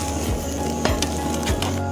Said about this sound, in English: fry your eggs really well, you need a non-sticky pan to do it perfectly